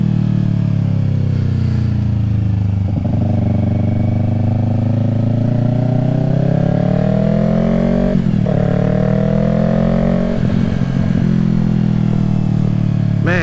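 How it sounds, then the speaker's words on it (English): Engine of a 2020 Yamaha R3 motorcycle revving while riding, a loud, close, continuous drone that climbs in pitch through several throttle pulls and gear changes. "Revving it on out."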